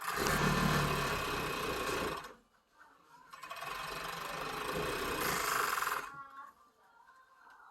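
A serger stitching the shoulder seam of a knit cardigan, running in two loud, steady whirring bursts of about two and three seconds each, with a brief pause between them.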